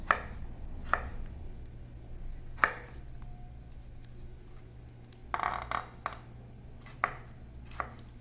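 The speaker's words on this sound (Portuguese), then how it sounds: "E vou picar também esse tomate em cubos" A knife chops tomato into cubes on a board for a creamy pasta with Tuscan sausage, giving sparse, sharp knocks at uneven intervals, with a quick cluster of cuts midway and a low steady hum beneath.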